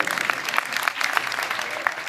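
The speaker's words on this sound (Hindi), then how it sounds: "चाहती हूँ कि आप अपने लिए जोर से ताली बजा दें" An audience at a public exhibition gathering in Bulandshahr claps steadily, a moderately loud wash of many hands with scattered sharper claps, continuing throughout without speech.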